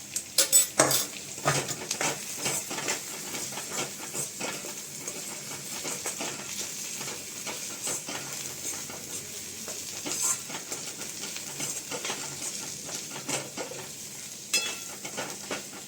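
Potatoes sauté in a pan with turmeric and red chili, a steady sizzle running throughout beneath repeated scraping and clinks of a stirring spoon against the pan.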